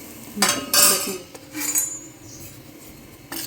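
A metal spoon clinks and scrapes against a pot while raw mango pickle is stirred, a few bright clattering bursts separated by short pauses, close and alone.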